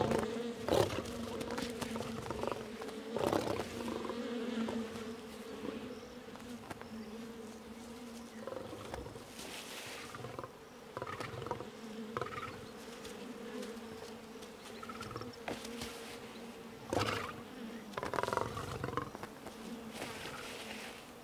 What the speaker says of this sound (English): The cub disturbs a swarm of bees